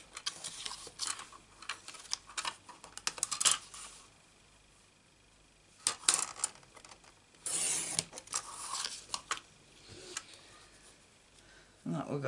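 A Stampin' Up mini trimmer slices through a strip of cardstock up close, giving short rasping, sliding bursts between quieter handling rustles.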